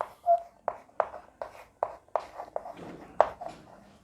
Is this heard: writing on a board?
yes